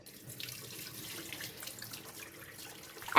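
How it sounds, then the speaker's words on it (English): Water runs and trickles steadily into a sink as it drains from washed anchovies, a soft continuous pour ending in a brief louder splash. "Drain the water."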